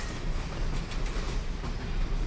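A train in the video game Bendy and the Dark Revival: continuous rumbling rail noise with a dense low roar and faint clattering, steady and moderately loud.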